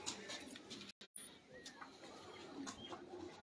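Pigeons on a Punjab rooftop loft give soft, low cooing calls that come and go, close by, with a short silent gap near the middle.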